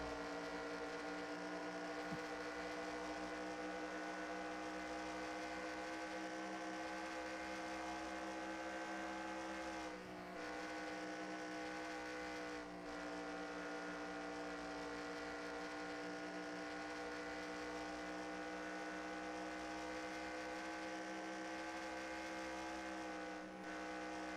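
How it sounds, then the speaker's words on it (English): Steady, high-pitched racing truck engine drone with dense harmonics on the front straightaway at Kansas, holding constant for a long stretch, briefly dipping a few times as if vehicles pass at speed. "listen in on some of the engine revs as they head down this front straightaway"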